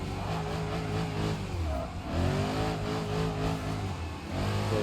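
Car in BeamNG.drive sliding sideways in a drift, its engine revving and wavering steadily throughout, loud and close, with shifting pitch as the throttle rises and falls.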